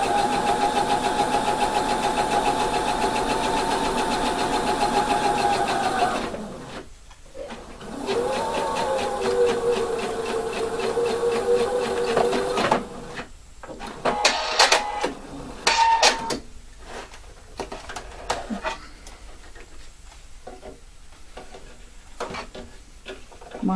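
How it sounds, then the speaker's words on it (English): A domestic sewing machine stitching a lining seam runs in a steady whir, pauses briefly, runs again, then stops for a stretch of short bursts and clicks. "I'm stitching here to attach my lining and put it all the way."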